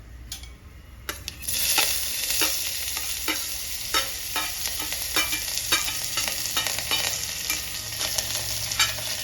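Onion, green chillies and curry leaves sauté in a pan with a bright, steady sizzle, broken by repeated sharp stirring scrapes and clicks of a spoon against the pan.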